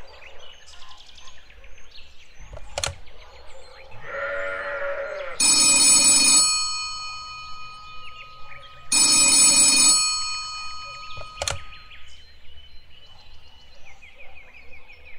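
Cartoon telephone bell ringing in two long loud bursts with sharp clicks and short tonal cartoon effects between them, no speech.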